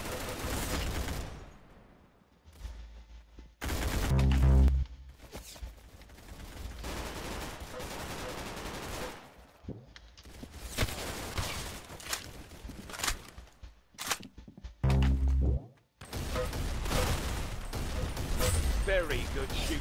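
Gunfire in the video game Arsenal, with loud bursts and rapid volleys separated by short pauses, mixed with lighter in-game noise and voices talking throughout.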